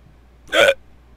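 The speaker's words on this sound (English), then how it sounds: "Oh, now I have the hiccups." A single sharp hiccup, loud and close, in the middle of a short quiet stretch with a low background hum, heard alone with no talk.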